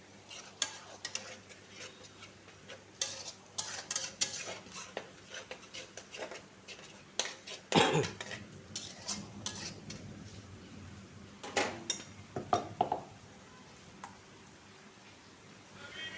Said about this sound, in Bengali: অ্যাড করে দিচ্ছি একটু আদা রসুন আর কাঁচা লঙ্কা পেস্ট